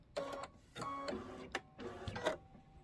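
A sewing machine stitches the inner borders and flange of a Kimberbell Sweet Land of Liberty quilted pillow, running in short, faint mechanical whirring bursts separated by brief pauses.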